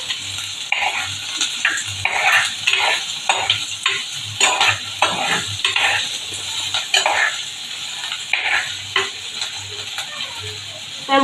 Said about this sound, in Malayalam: ഞാനിപ്പോൾ ഇത് വഴറ്റതാണ്.